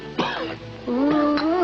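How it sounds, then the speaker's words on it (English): A man clears his throat and coughs in two short rough bursts, close and fairly loud, with a brief voiced moan-like tail between them. "That cough of yours stays with you like poor relation"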